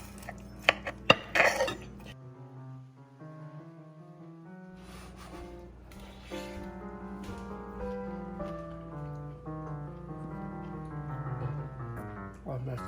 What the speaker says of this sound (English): So if you cut through now, you'll feel they're super tender